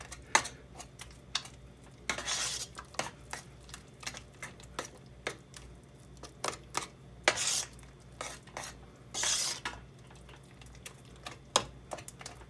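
A spoon scrapes and clacks against a pan while stirring chicken croquette mixture and breaking up lumps, giving irregular sharp taps and a few longer scraping strokes, fairly quiet and close with no talking.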